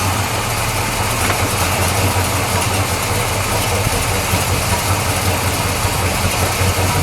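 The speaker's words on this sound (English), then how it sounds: "Let's fire it up, shall we? We'll listen to it idle." A 1973 Chevrolet Camaro Z28 with a four-speed and a 245-horsepower engine idles nearby in a steady, deep, even rumble with a constant low throb throughout and no talking.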